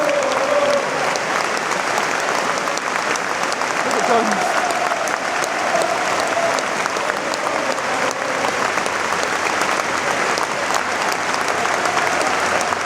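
Sustained applause from a large football stadium crowd, a minute's round of applause, steady and loud throughout, with a dense wash of clapping and no pauses.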